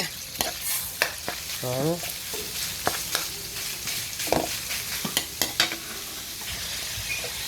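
Ground pork sautés in a frying pan while being stirred, giving steady sizzle with irregular sharp scrapes and taps from the utensil, close and moderately loud, with a brief spoken word partway through.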